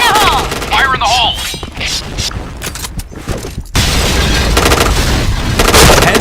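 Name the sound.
grenade explosion and gunfire in video game Point Blank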